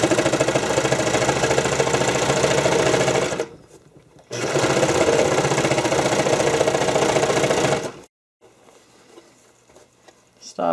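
A sewing machine stitches terry cloth and elastic for figure skating blade soakers in two long, loud, steady runs of rapid mechanical whirring, each broken by a short pause, then a quieter stretch near the end.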